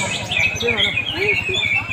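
A green leafbird (cucak hijau) sings at a songbird contest in Sugiwaras, Palembang, with rapid, bright chirps and warbles up close over a busy background of other birds and crowd murmur.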